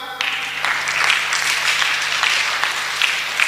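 A congregation applauding at a Sunday church service, a dense continuous clatter of many hands clapping that fills the room, fairly loud and steady without any speech over it.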